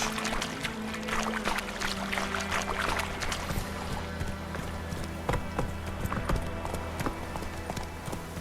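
Roach, a horse in The Witcher 3, gallops with a steady clip-clop of hooves over a continuous outdoor ambience, the hoofbeats close and evenly paced throughout.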